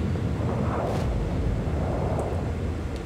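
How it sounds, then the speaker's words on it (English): A Yamato battleship in a naval video game lets loose a full broadside, heavy booming blasts merging into a dense, continuous low roar. "I let out a full broadside as soon as all my turrets are aligned"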